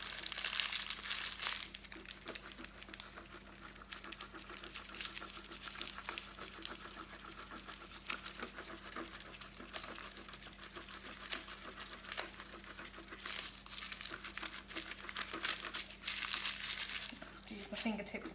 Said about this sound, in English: It's hard with the greaseproof paper, I don't want to grate the greaseproof paper.